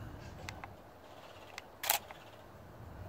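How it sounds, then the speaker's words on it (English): A Canon Rebel EOS T7i shutter fires with no memory card inserted: a few faint quick clicks, then a louder sharp mechanical clack-clack near the middle, close up in a quiet room. "It'll let me take the pictures, or think I'm taking pictures, but it reads no card"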